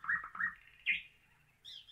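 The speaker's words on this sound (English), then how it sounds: "Those are some loud birds." Birds chirping loudly in a quick series of sharp, bright tweets, two or three close bursts followed by a longer call and a higher trailing chirp, with no talk.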